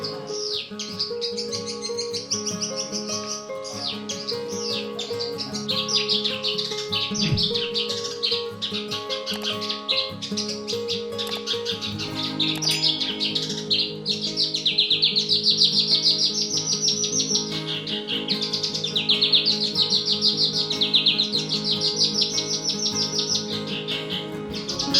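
A Java branjangan (listed as a Java magpie robin) sings steadily and loudly at close range, a continuous stream of bright chirps and trills that swells in the second half, with faint background warbling.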